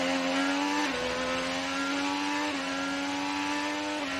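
Onboard engine of Josef Newgarden's Team Penske Chevrolet IndyCar at the Indianapolis road course, a loud steady high-pitched whine that dips briefly at upshifts before climbing again, with no talking.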